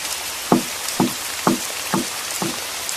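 Heavy rain pours as a steady, dense hiss throughout, while five evenly spaced knocks sound on a window over it.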